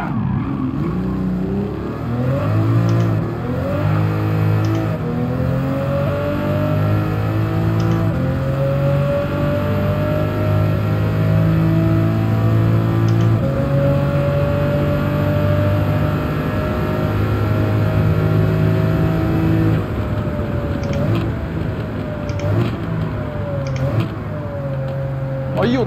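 A Pagani Huayra's Mercedes-AMG V12 engine in Gran Turismo 7 holds a loud, smooth, harmonic drone, its pitch climbing and dipping with gear changes and throttle during a lap.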